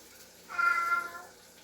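A cat whines for ham in a kitchen, giving a single drawn-out plaintive meow of about a second, fairly faint and heard on its own.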